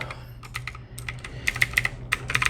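Rapid typing on a budget mechanical-style gaming keyboard with switches modeled after Cherry MX Blue, close-up bursts of crisp, irregular key clicks continuing throughout.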